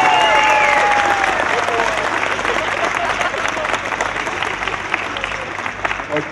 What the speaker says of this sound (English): let's give them another nice round of applause